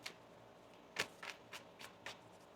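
A deck of tarot cards is shuffled by hand in a quiet room, several soft, crisp riffling bursts spaced about a quarter second apart, close and faint.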